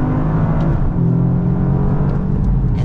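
A 2024 Toyota GR Yaris engine revs as the car drops down through the gears toward first, a close, steady motor drone with rising and falling pitch heard from inside the car.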